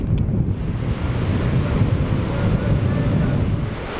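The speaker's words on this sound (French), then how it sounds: "T'as vu comment ça soufflait, comment les dunes elles bougeaient?" Strong wind in a Moroccan sandstorm roars steadily and close against the microphone, a loud, continuous buffeting rumble with no voices.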